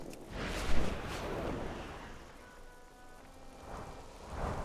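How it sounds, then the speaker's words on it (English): Rain falling in the World of Warcraft video game, a steady broad hiss with a low rumble like distant thunder, continuous and moderately loud with no talking. "Rain."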